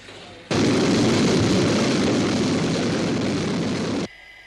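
Sky 1 interceptor aircraft from a 1970 TV science-fiction series, a loud, steady roaring rush that bursts in abruptly, holds for about three and a half seconds, then cuts off sharply.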